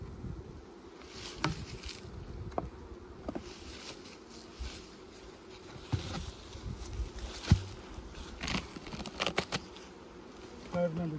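Bees buzz around a hive in late fall, a continuous close-up hum with individual insects droning past, plus occasional handling clicks and taps.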